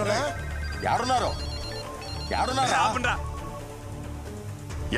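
A telephone rings in a comedy film scene, two warbling ring bursts about a second and a half apart, fairly clear, with people talking around them.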